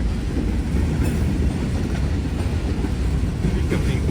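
A train rolls past close by, a loud, steady rumble of railcars with faint wheel clatter throughout and no talk.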